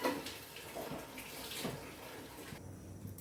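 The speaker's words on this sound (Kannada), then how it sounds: "ಅದು ಸ್ವಲ್ಪ ನೀರು ಹಾಕ್ಕೊಳ್ಳೋಣ" Water is poured into a pot of small-cut pieces of sweet pumpkin for a homemade gravy. It makes a soft, continuous close splash that is quiet and heard alone for a few seconds.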